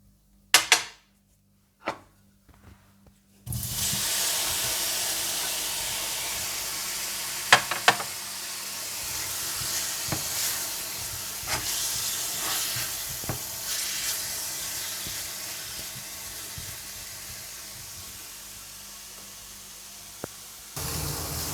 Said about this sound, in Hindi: इसके बाद पैन में तेल गरम करके तेज़ आंच पर प्रॉन्स को फ्राई कर लीजिएगा।